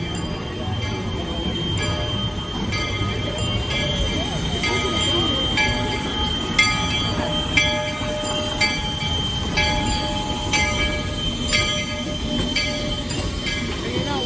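Theme park train ride at Knott's Berry Farm: continuous loud rumble of rolling railcars with repeated metallic clicks and faint wheel squeal, with people talking over it.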